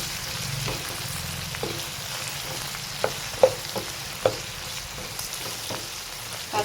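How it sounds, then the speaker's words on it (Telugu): Okra sizzles steadily in hot oil in a pan, a continuous crackling hiss broken by a few sharp clicks and taps from stirring. "బెండకాయలు అనేవి ఆయిల్లో బాగా ఫ్రై అవ్వాలండి."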